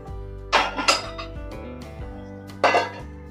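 Metal lid set onto a cooking pot, a few sharp clanks and clinks with ringing metallic resonance, close and loud, in two bursts separated by a short pause.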